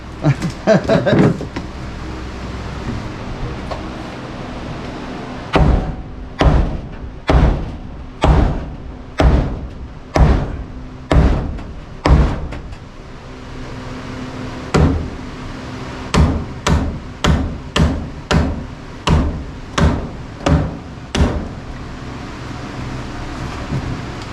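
Sharp hammer strikes come in bursts of several blows, loud and close, with short pauses between groups and a low background rumble.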